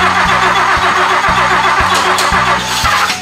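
A 1966 Mercedes-Benz 600 Grosser luxury sedan engine cranks and catches, settling into a loud, close, rhythmic running idle with steady pulsing firing beats.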